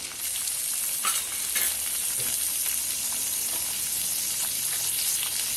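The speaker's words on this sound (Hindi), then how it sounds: "अब इसके अंदर हम कटे हुए टमाटर डाल देंगे।" Chopped tomatoes sizzle and fry in a pan with onion, green chilli and ginger while being stirred for a puffed-rice breakfast dish. A steady, close hiss with light scraping strokes continues throughout, with no talking.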